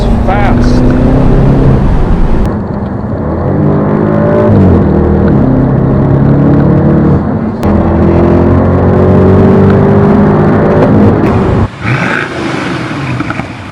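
A 2007 BMW 650i accelerating in sport mode makes a loud, close, sustained engine drone that rises steadily in pitch, with brief dips between gears and a shift near the end.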